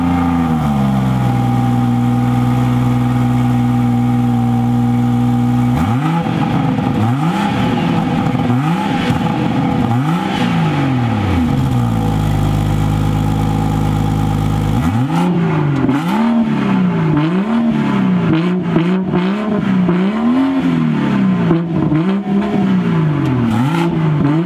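A BMW 340i Performance with factory M Performance dual exhaust idles, then revs sharply several times in loud rising and falling sweeps, settling back to idle between blips before another run of quick revs.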